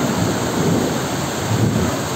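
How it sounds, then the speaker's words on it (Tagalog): A sudden heavy downpour during a thunderstorm makes a dense, constant roar of rain with a low rumble of thunder underneath, loud and unbroken. "Grabe, lakas ang ulan."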